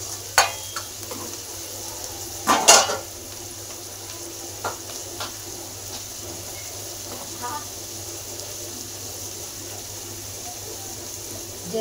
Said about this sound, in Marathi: मस्त कांदा आपलं तळून घेऊ.